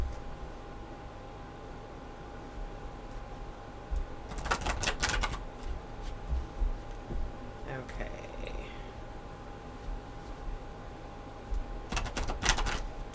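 A deck of oracle cards is shuffled in two short bursts of crisp riffling and clattering, close by, separated by quiet room tone and a faint soft rustle.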